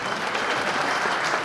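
Children clap steadily together, a dense continuous patter of many small hands, fairly loud and unbroken.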